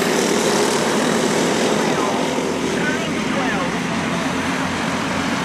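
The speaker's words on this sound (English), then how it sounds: "Time is short and Moore's already on the throttle checking out of the building" A Pro Junior race car in a feature event at the Lawson Memorial accelerates on the throttle with a loud, continuous engine roar that fills the whole stretch and stays steady and near.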